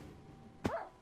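A Minecraft dog gives a single short bark, sharp and fairly close, over a low, steady background hum.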